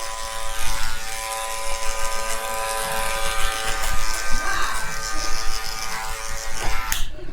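Electric hair clippers buzz steadily up close as a barber fades a beard into a drop fade, a continuous whirring drone with slight variations as the blade moves.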